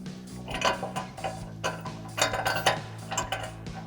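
Steel bolts, lock washers and flat washers for a bull bar install clink and rattle as hands sort through them, with small metallic taps in quick, uneven bursts close up.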